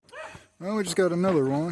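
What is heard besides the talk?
dog barking in the background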